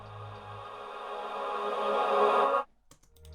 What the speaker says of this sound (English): And then reverse sounds like this